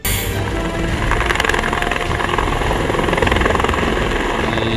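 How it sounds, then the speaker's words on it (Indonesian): A military helicopter from the Pondok Cabe squadron flies on a joy flight, its rotor and engine a loud, steady, close roar throughout with no voices. "merasakan langsung joy flight atau terbang gembira dengan salah satu helikopter yang ada di Skadron Pondok Cabe tersebut"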